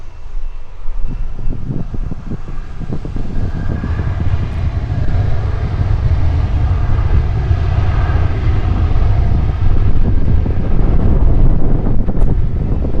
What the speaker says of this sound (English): Velocity 1446, cleared for takeoff.